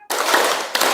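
A burst of hand clapping in a classroom counting game, a sharp start followed by about a second of dense, loud, overlapping claps with a brief gap and a renewed burst at the end.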